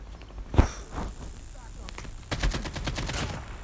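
Gunfire in the video game Call of Duty, with an AK rifle: a sharp single shot early, then a rapid run of automatic bursts toward the end, mid-distance over steady game background noise.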